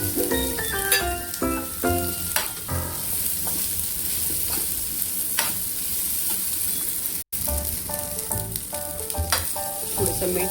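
Vegetables with browned onion and salt frying in a pan and being stirred, a steady close sizzle with scraping and clinking of the spoon throughout, no voices.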